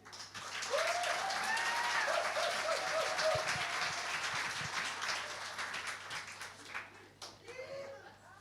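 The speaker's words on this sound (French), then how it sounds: "on peut l'applaudir" A congregation applauds during a baptism service in a church, a steady crowd of clapping hands with some faint speech beneath, tapering off toward the end.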